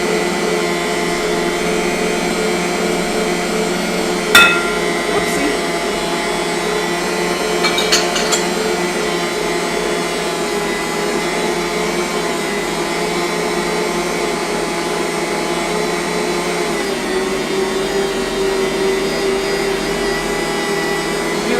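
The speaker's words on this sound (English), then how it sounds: "Can you hear me talking over the mixer?" A stand mixer kneads cinnamon roll dough with a steady, loud motor whine and hum that runs unbroken throughout, with a few faint knocks and clinks near the start.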